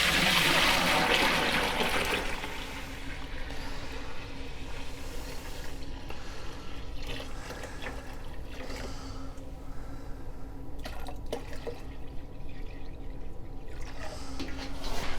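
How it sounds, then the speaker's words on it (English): Wort pours and splashes steadily from a brewing kettle into a fermenter nearby, loudest at first, then settling into a continuous trickling flow. "now I'm just picking up my kettle here, and I am going to pour it right into my fermenter"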